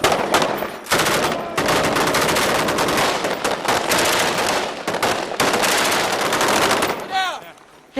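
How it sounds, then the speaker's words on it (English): M16 rifles fire in loud, close, sustained bursts during a combat drill, the rattling volleys nearly continuous with brief gaps, ending in a fading echo. "Slow on M16s, like 2 bursts."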